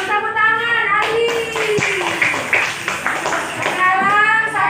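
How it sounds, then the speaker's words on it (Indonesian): In a classroom, students clap their hands together to praise a classmate, a loud, dense burst of applause heard near, mixed with children's voices and a teacher speaking. "Tepuk tangan, Ali."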